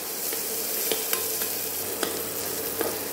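A green chili sizzles loudly in a pan, a constant dense crackle broken by a few sharp clicks of a spoon against the metal.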